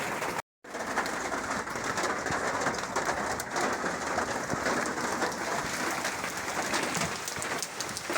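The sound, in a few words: morning rain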